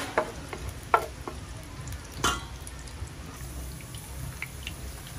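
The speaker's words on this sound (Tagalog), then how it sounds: "Mga Mars, gisa na natin ang bawang sibuyas." Garlic and onion sautéing in not-yet-hot oil, a soft low sizzle running throughout with occasional light stirring clicks and scrapes of a utensil against the pan.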